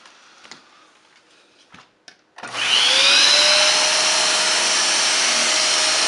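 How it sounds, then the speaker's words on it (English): A Dyson Cinetic DC78 vacuum cleaner with a turbinehead starts up on carpet after a few faint handling knocks, then holds a loud, steady whine and rushing roar close by. "And here is the Dyson on carpet."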